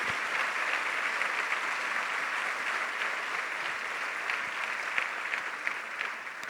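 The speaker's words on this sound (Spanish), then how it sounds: "Un fuerte aplauso a ese Señor." A church congregation gives a loud, sustained round of applause to the Lord during a Sunday service, a thick continuous roar of many hands clapping for over six seconds.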